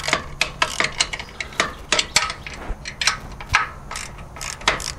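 Ratchet wrench undoing a mounting bolt on a boat trailer winch, a close, steady series of sharp metallic clicks with light clanking.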